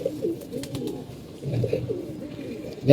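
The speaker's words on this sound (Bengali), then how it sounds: "আমাদের একটা রোহিঙ্গা কবুতর আছে" Pigeons coo softly in repeated low, throaty rolls, close by and overlapping, in a loft with birds that are moulting. A louder flutter or knock comes near the end.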